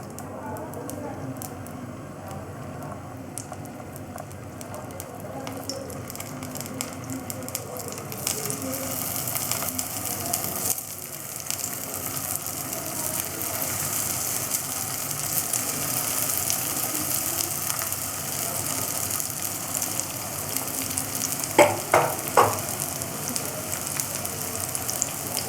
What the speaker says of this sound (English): Now I will fry the fish kofta. My oil is nice and hot now. I add kofta.